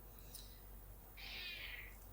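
A house cat meows for food, one drawn-out, fairly faint cry after a softer chirp, set against a steady low room hum with no talking.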